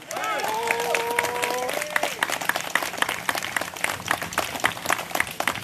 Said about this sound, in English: Clap it up for PLM